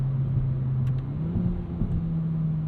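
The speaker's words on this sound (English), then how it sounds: "this sounds like induction noise" Induction noise from a 2022 Kia Forte GT engine while driving, a steady low droning hum with a slight pitch rise, heard from inside the car at moderate level without speech.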